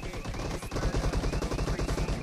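Rapid shotgun fire in PUBG Mobile, a dense run of sharp repeated blasts close up that keeps going almost the whole time, with faint talk underneath.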